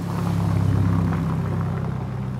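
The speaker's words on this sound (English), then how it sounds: "that Ferrari, that low frequency sound" A Ferrari engine gives off a deep, steady low-frequency rumble that is loud and close, with no talking over it.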